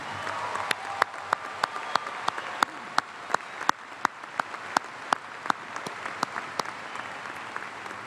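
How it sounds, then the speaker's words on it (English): Audience applause at a 2011 Augusta State University graduation ceremony, a continuous wash of many hands with sharp individual claps standing out close by, moderately quiet and steady throughout. "Let us applaud these outstanding students."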